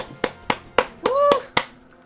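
Sharp handclaps sound in a steady rhythm, five or six distinct claps with a short tonal chime in the middle, from a Don't Starve Together cooking challenge; no voices.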